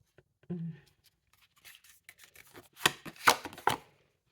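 Tarot cards handled at a table during a reading: scattered soft taps and flicks, then a few sharper slaps and rustles as cards are turned over, close and fairly quiet, with no talking.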